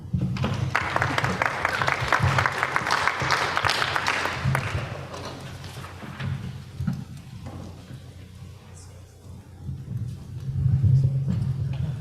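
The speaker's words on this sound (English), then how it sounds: "I just want to give them all a round of applause and a big thank you." Applause at a school board meeting thanking the county sheriff's office, a few seconds of clapping that fades out into quieter room noise with low rumble and faint murmuring.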